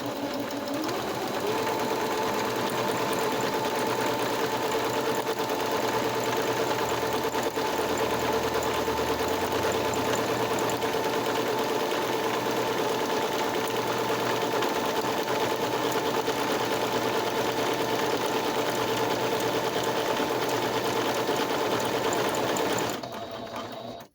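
A sewing machine stitches a buttonhole in a long, steady, close-up run of rapid mechanical whirring and clatter that holds for over twenty seconds before stopping abruptly.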